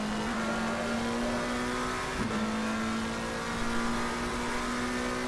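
The engine of a BMW GT4 race car in a racing game drones at a steady pitch and holds a sustained tone, with a brief dip around a gear change and a faint tyre edge in the background.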